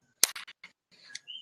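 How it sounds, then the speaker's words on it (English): Keyboard keys clatter in a quick irregular burst of sharp clicks, then a few softer taps follow, faint and close, with a brief high chirp near the end. "I'm at least able to hear your keyboard"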